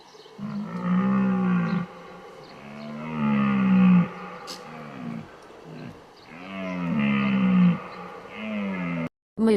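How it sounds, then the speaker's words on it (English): A deer gives long, low, moaning bellows, three or four drawn-out calls separated by brief pauses, loud and close with nothing else heard. "Deer."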